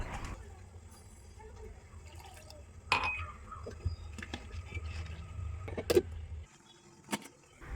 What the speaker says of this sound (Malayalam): അപ്പോൾ തേങ്ങ അരച്ച് കറിയിലേക്ക് ഒഴിച്ചു